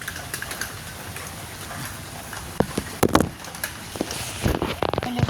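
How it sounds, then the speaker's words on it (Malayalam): Light drizzle falling outdoors, a soft steady patter with a few sharper drop-like taps and knocks scattered through it and growing busier toward the end, with no one talking. "ഇവിടെ ചെറുതായിട്ട് ചാറുണ്ട് കേട്ടോ"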